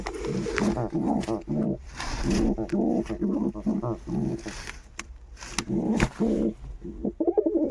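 Pigeons coo in soft, low, throaty phrases, repeating over and over at close range with no talking.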